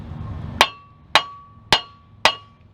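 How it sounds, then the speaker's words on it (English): A hammer strikes the knuckle beside a Chevy Malibu half shaft in five loud, sharp metallic blows at an even pace, each ringing briefly in a quiet workshop. "Just you give it a smack on the side right here, and we'll see if it works."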